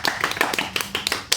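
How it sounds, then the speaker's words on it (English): A child claps hands at a home birthday celebration after blowing out candles, a run of quick, uneven claps close by. "clap, Sparrow."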